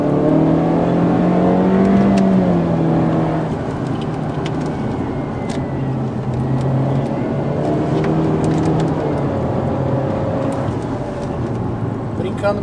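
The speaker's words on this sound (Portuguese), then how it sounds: "O carro andou bastante e eu ainda estava na terceira marcha." A Honda Civic 10th generation accelerates hard in third gear, its engine note climbing and holding in a steady rising drone from inside the cabin, with someone speaking over the engine.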